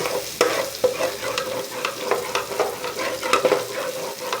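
Garlic and onion sauté together in a pan for pancit bihon, a steady frying sizzle broken by repeated sharp scrapes and taps of a spatula stirring close by.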